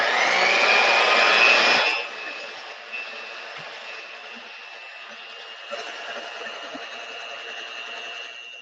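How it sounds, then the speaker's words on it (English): A handheld electric mixer whirs through waffle batter with a loud, steady whine for about two seconds, then drops to a quieter, continuous hum that runs to the end. "So you just have a handheld mixer on this one,"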